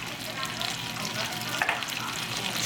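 Tomato sauce from an 8-ounce can sizzles and fries in a roasting pan of paella base, a steady close hissing crackle with light stirring scrapes and no talking.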